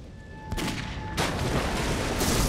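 Gunfire in the video game Clive Barker's Jericho: two sharp broadband shots land about half a second apart, then a dense, sustained rumble of noise carries on loudly with no speech over it.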